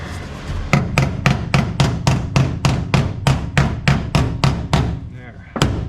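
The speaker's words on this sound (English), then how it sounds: "I'm going to try and get them tapped down before I put another bead of weld on it" Steady hammer blows on the steel body panel of a 1973 Chevrolet Nova, about fourteen sharp metallic taps at an even rhythm, close and loud, ending with a short pause and one final strike.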